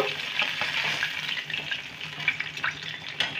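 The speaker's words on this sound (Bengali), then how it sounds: "দেখুন আমি কিন্তু ডিপ ফ্রাই করে নিলাম" KFC-style chicken pieces deep frying in oil over a lowered gas flame, a continuous close bubbling sizzle with scattered crackles and faint clicks throughout.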